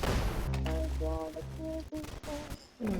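Gunfire in a Roblox shooting game: a few sharp, separate shots crack out amid a steady, tonal game soundtrack, with a brief louder burst near the end.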